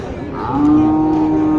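A cow moos loudly and close by at a livestock market, one long drawn-out low call rising in strength, with faint crowd noise behind it.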